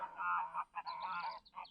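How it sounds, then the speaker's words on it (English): Geese honk repeatedly outdoors in a no-dig vegetable garden, a series of close, nasal calls in uneven bursts with short pauses between them. "oh, those geese, they're desperate to get on camera."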